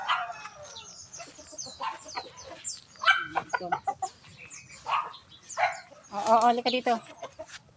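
Farm chickens at feeding time alongside ducks and turkeys, with clucking and calls mixed with a dog's barking and a person speaking close by.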